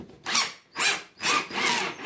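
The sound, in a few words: electric drill chuck being tightened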